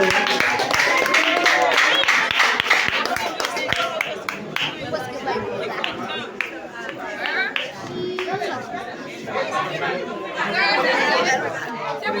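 A wedding crowd claps and chatters loudly, and the steady applause carries under a lively hubbub of voices throughout.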